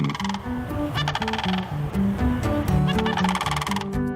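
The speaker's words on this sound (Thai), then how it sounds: "แต่ละคู่จะเปล่งเสียงในพฤติกรรมที่เรียกว่า Unison Calling" Loud, continuous unison call of a mated bird pair in a US Midwest freshwater habitat, two voices trading harsh honking and bugling notes in overlapping bursts, close and unbroken throughout.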